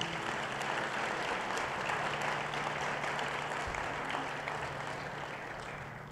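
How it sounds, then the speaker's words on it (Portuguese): A church congregation applauds during a Sunday morning service, producing steady, dense clapping that holds for several seconds and then slowly fades, with no voices over it. "Você pode aplaudir o Senhor Jesus?"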